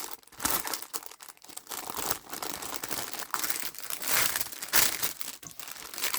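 Plastic bag crinkling steadily as tape is pulled out of it, close and continuous with crisp rustling bursts and no talking.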